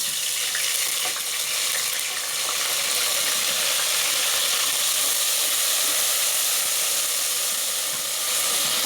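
Garlic ginger paste hitting hot oil in a cooking pot, giving a loud, dense, continuous sizzle and crackle held close and steady throughout, with no voices.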